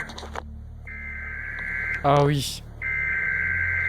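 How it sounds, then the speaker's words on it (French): US Emergency Alert System alert tones play as loud, sustained electronic beeps, broken by a brief burst of warbling sound midway, over a constant low hum, with a short spoken remark near the start. "Ce son que vous entendez actuellement, c'est celui qui est émis par l'EAS ou l'Emergency Alert System aux États-Unis"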